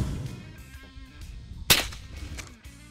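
A single .22 Short rimfire cartridge is fired subsonic, giving one sharp, fairly quiet crack partway through, with low background rumble before and after.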